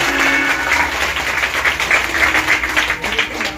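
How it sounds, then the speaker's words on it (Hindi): Enthusiastic applause from the audience at a Bhagwat Katha religious discourse in Swaroop Nagar, a dense and steady burst of many hands clapping at once with no voices over it. "अगर कथा में आनंद आए तो जोरदार तालियों का स्वागत करेंगे"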